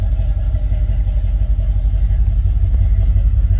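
A 1964 Pontiac GTO with a Hurst shifter idling, a steady deep rumbling engine note, loud and close with a slightly uneven low throb and no talk.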